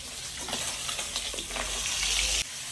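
Pieces of shankar fish (stingray) fry in hot oil with a loud, crackling sizzle, stirred now and then, the bubbling swelling toward the end before settling.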